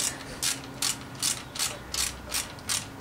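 A ratchet tool working a loose nut during a supercharged V6 Camaro rebuild, giving eight evenly spaced clicking pulls in a steady rhythm, close and distinct with no talking.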